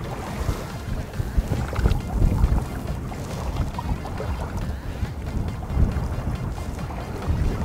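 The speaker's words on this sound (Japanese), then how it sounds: "今上流から仮にものすごく風強く吹いてるんで、糸張るだけでもどんどん流れてくるんですよ" Strong wind blows from upstream at a riverside fishing spot, buffeting the microphone with constant low roaring gusts that swell and ease throughout.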